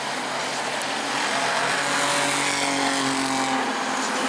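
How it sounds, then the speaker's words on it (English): Race cars at the Armadillo Enduro 100 at New Smyrna, engines roaring loud and close as they accelerate, a sustained rising drone with a rough edge holding through the end. "And Zach Curtis, he hits the loud pedal real hard when he sees the Pumpkin."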